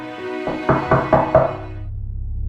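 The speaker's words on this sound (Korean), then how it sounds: "누군가 현관문을 두드렸다." Four firm knocks on a wooden door in quick succession, close and clear, followed by a low steady hum.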